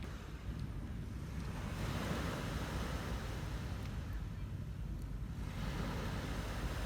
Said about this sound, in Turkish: Deniz sesi var.